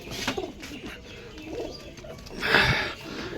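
Pigeons, kept as high-flyer birds, coo in soft, low, repeated calls close by as their cages are opened, with a louder burst of cooing near the end.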